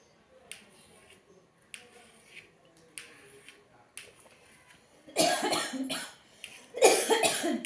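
Several short, sharp coughs come at roughly one-second intervals, followed by louder, harsher bursts of coughing near the end.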